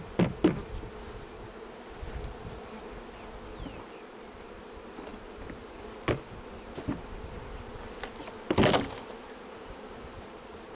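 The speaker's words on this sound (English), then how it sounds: "Got a good buzz going on now." Honeybees buzz steadily as five frames are moved into a new hive, a continuous dense hum with a few sharp knocks and bumps from handling the equipment.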